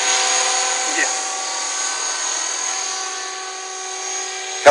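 An RC Huey model helicopter flies nearby with a steady, high-pitched motor whine and droning rotor tone that holds constant throughout, with a faint brief knock near the end.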